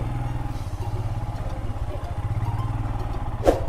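A motorbike engine runs with a steady low throb on an off-road dirt track near Igatpuri hill station, one brief louder knock near the end.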